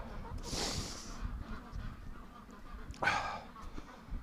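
Free-range ducks give two loud honking calls a few seconds apart during morning chores in extreme cold weather, against a soft outdoor background.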